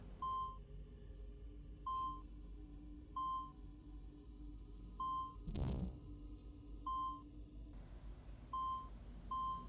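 Short electronic beeps sound at a steady interval, roughly every second or so, in Assassin's Creed II over a low game ambience, with one brief swelling whoosh in the middle.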